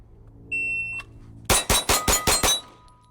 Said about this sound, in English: the timer beep after he finishes 6 shots